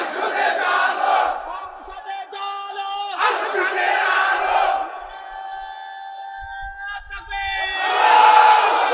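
A large crowd at an Islamic sermon chants takbir in loud, unified bursts answering a preacher's call, with short pauses between the roars.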